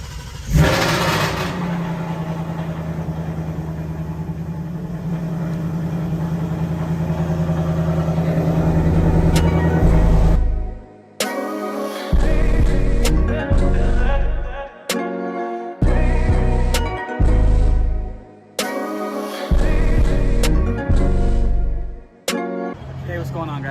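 A Nissan 240SX being built as a drift car starts with the gas and clutch held down, then runs with a loud steady drone for about ten seconds before repeated sharp revs and cut-offs follow, close up.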